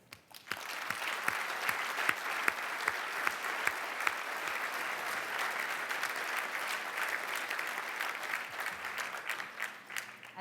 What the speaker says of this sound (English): Please join me again in applauding the Academy representatives who could be with us tonight